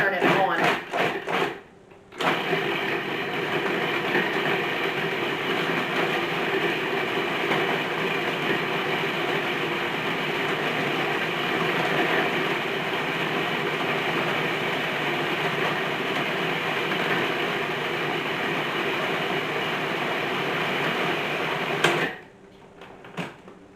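Food processor pulsing pesto with olive oil, a loud steady motor whir running close and unbroken for about twenty seconds between brief pauses at the start and end.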